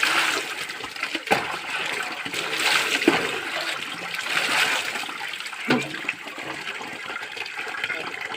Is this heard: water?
yes